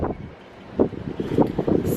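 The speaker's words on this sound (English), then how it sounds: "what on earth am I doing with this wind" Strong wind gusting against a handheld camera microphone outdoors, producing a low, buffeting rumble that swells and eases in uneven pulses.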